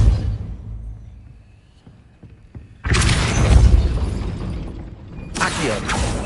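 The Depulso spell is cast in a Hogwarts video game: a faint mechanical rattle and creak gives way to a sudden loud, rumbling burst that rolls on for seconds, then a second forceful whoosh near the end. No talking is heard.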